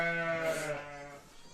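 A sheep in a pen lets out a single long, wavering bleat, close and loud, tapering off toward the end with no speech over it.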